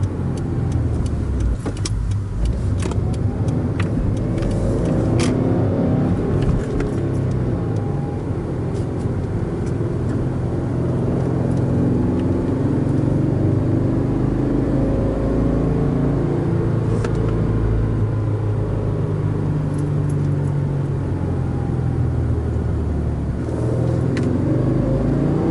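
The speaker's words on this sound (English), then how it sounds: "that was the drive to the mall" A car drives along on the way to a mall: a continuous low road rumble and engine drone from inside the cabin, steady in level with mild swells of acceleration and no voices.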